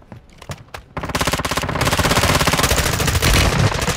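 Rapid automatic gunfire in an online shooter game, a few scattered shots followed by a loud, sustained close-range burst with an even, fast rhythm, no talking.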